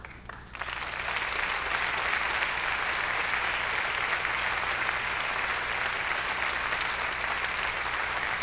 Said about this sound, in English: then we can give both of them applause